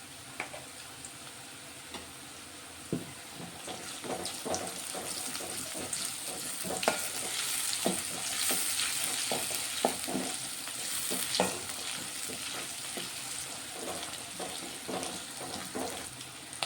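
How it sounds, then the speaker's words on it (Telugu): Chopped onion sizzles steadily in a hot pan for a cabbage and chana dal curry, with a spatula scraping and stirring at intervals, close and continuous with no talking. "ఉల్లిగడ్డ ఫ్రై అవుతుంది"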